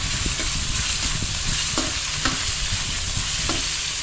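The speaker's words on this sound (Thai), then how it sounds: "คั่วพริกคั่วหมู" Minced pork and chili stir-fried in a pan, a steady loud sizzle and hiss with occasional scraping strokes of a utensil, no voices.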